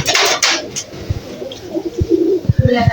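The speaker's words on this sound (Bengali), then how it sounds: "দেখতে পাচ্ছেন এখানে দুইটা কবুতর" Two pigeons at close range give low, soft cooing pulses in short repeated bursts, with a brief brighter rustle at the start.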